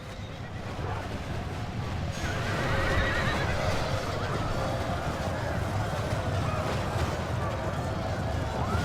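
Medieval II Total War battle audio with the Broken Crescent mod. Horses neigh loudly and hooves clatter over a dense, rumbling wash of battle noise, and voices shout under it all.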